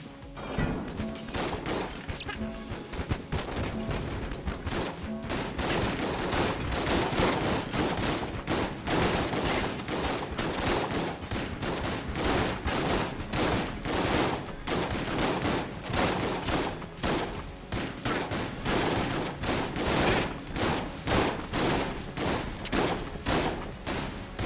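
Rapid, continuous gunfire from the video game Enter the Gungeon, dense bursts of shots cracking one after another with almost no pause, loud and sustained throughout.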